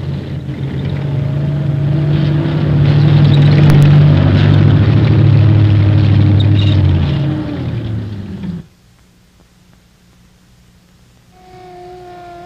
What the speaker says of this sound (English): the missile will be carried and directed by the TEL mounted on the tracked vehicle